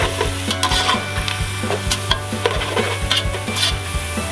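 Onions fry in a pot of hot oil for chicken pulao, giving a steady, close sizzle. A spoon stirs them, adding regular scraping knocks against the metal, and no one speaks.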